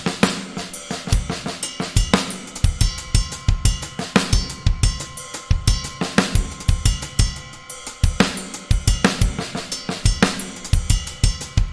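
Ride cymbal patterns from Superior Drummer, triggered on Roland TD50 electronic drums, play in a steady groove of shimmering pings over kick and snare hits, loud and continuous with no talking.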